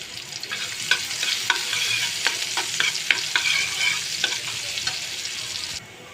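Chopped onions dropped into oil left over from frying potatoes, for chicken biryani, crackle and hiss loudly while a utensil scrapes and stirs in quick strokes, the sizzle dropping off abruptly near the end.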